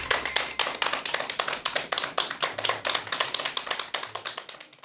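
An audience claps for a lecture guest, a dense sustained round of applause close and loud with no talking.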